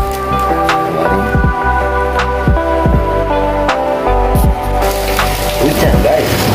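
Rain falling in the dark, a steady dense patter with scattered sharp drips and knocks over a constant hiss.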